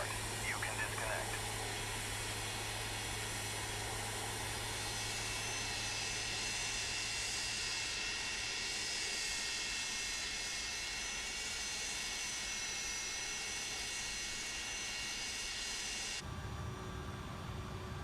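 An MD-80 Maddog airliner's jet engine spooling up to a steady start in Microsoft Flight Simulator, a loud continuous whine and roar with high tonal lines holding for most of the stretch before shifting to a lower idle near the end.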